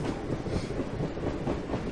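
A train rolling along in the video game The House of the Dead: Overkill, a steady, dense rumble with a faint rhythmic clatter that holds level throughout, with no voices on top.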